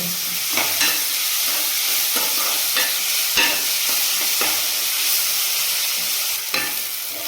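Onion frying in a pan with a pinch of salt, a dense steady sizzle close by, broken by occasional scraping stirs of a spatula every second or so, with no talking.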